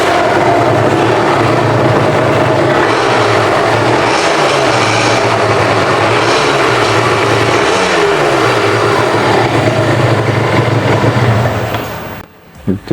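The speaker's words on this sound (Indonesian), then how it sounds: "Suara 2 taknya juga ya khas Ninja lah." Kawasaki Ninja SS 2014 two-stroke motorcycle engine running steadily and loudly at close range for most of the stretch, with low engine tones rising and falling, before cutting out near the end.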